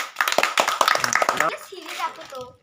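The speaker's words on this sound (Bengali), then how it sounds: "এটি বড় হাততালি।" Group applause from a village crowd at a ludo pawn-rolling game competition, cheering a prize winner; about a second and a half of dense clapping that fades out, with a voice mixed in.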